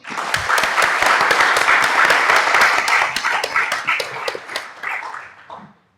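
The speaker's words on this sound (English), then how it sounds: "So give Mikkel a round of applause." An audience at a talk on returning to competitive sport with an ICD applauds an athlete, a loud burst of many hands clapping that holds steady and then tapers off to silence near the end.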